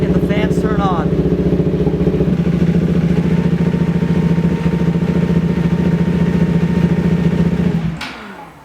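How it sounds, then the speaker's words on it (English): A motorcycle idles steadily and loudly at close range while warming up, its low throbbing engine note holding even with a whir rising over it as the cooling fan kicks on, then cutting off near the end. "As you could hear, the fan kicked on."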